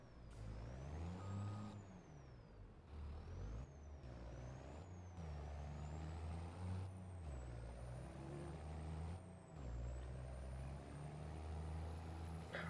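A truck in Farming Simulator 25 drives with its engine droning steadily and gear-like pitch shifts, while a whining tone rises and falls above it and brief pauses break the sound.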